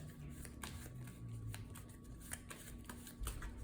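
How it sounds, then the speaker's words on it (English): Playing cards being shuffled nearby, a discard pile riffled back into the deck during a Marvel Champions card game, a string of quick riffling snaps and soft slides at a steady pace. "we shuffle up our discard pile back into the deck"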